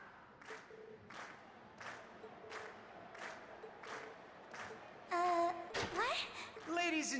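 A crowd cheering and clapping after a class performance in the Trails of Cold Steel video game: rhythmic bursts of crowd noise under a steady backing, then louder game sounds near the end, with a voice speaking over it.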